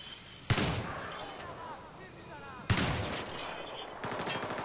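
Two loud shotgun blasts in the military shooter Battlefield 3, a couple of seconds apart, each with a sharp crack and a long rumbling decay, over a busy game background with someone talking.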